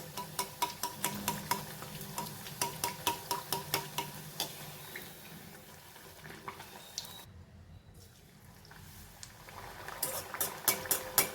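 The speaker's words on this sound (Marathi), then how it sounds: "मिडियम गॅसवर तळायच्या असं कडेने तेल उडवत राहायचं" Puris frying in oil on medium gas give a close, steady sizzle, with bursts of quick rapid ticking as oil is splashed over them and a brief quiet gap in the middle.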